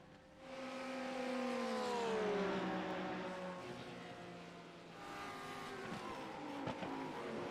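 Race car engine in the iRacing sim during a Spa 24-hour endurance race, a loud sustained drone with pitch sweeping downward as it passes, then continuing at a steady level with a brief click near the end.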